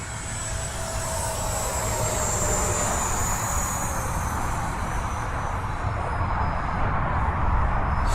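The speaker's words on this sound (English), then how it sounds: "So this is going to be a full throttle pass." An XFly T-7A Red Hawk RC jet with a 64mm electric ducted fan makes a full-throttle pass, a steady loud whooshing whine that rises and shifts in pitch as it goes by, with no talking.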